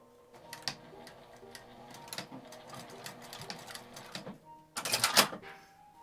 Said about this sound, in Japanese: 紐の真ん中ぐらいから返し縫いで留めます。